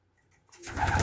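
Pakistani pigeons being moved into a racing loft coo in a dense, overlapping chorus that swells in suddenly after a quiet start, close and fairly loud.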